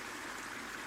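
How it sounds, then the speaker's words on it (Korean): Snowmelt water babbling through a valley stream, a steady, even wash of trickling flow with no breaks, heard alone and fairly soft throughout. "졸졸졸졸 눈 녹아내리는 물소리가 아주 청아하죠"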